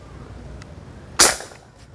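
A single sharp crack from a PR900 Gen3 air rifle being fired, a close, loud report with a quick decay, standing alone against quiet background.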